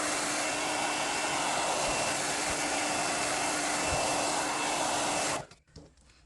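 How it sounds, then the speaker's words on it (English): A hair dryer blows with a steady, loud whooshing roar for several seconds, then cuts off abruptly, leaving faint rustling. "I'm going to use the hairdryer to dry this as quick as I can."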